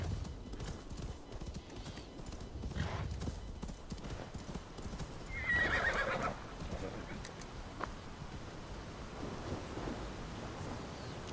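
Horses in the Assassin's Creed Valhalla video game, with hooves clip-clopping steadily and a loud neigh rising midway, set against a dull rumbling, stormy background with faint rain-like hiss.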